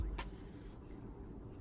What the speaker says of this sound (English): it is the Hyaluronic Acid Setting Spray